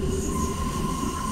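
A Berlin U-Bahn F87 subway train with a brown passenger interior runs steadily, its loud interior rumble carrying a sustained high wheel squeal and constant mechanical drone, heard from inside the car.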